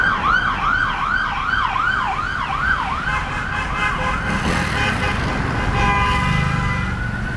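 A police car siren wails, sweeping up and down repeatedly, loud and close, over steady traffic rumble in Hawaii, then shifts to a faster yelp before fading into road noise.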